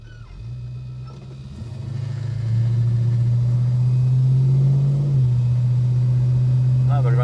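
A Holden HK car engine idles too low, nearly stalling, with a deep uneven rumble that swells slightly and then holds steady and close.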